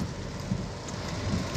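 Steady rain falls in Mauritius during a thunderstorm, a dense, even hiss of drops with a few louder patters close by, and no voices.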